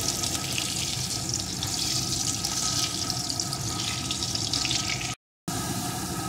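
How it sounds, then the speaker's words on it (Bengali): Potato pieces with a pinch of salt fry in hot oil for a vegetarian potato and pointed gourd dish, giving a steady, dense sizzle that runs without a break before a brief cut, then resumes. "এখন আলুটাকে লাল লাল করে ভেজে নেব"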